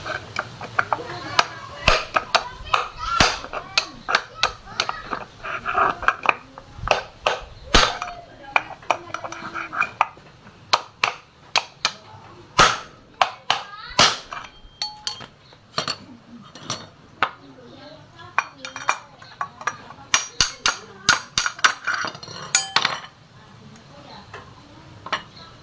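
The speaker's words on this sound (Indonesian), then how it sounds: "Kita gunakan palu dan juga kunci T-nya ini." A hammer and a T-wrench knock at a worn CVT bearing on a scooter, giving sharp metallic taps and clanks in irregular bursts with pauses between them, fairly close.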